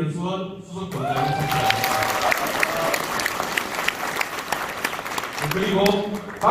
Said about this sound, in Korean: 박수하십시오.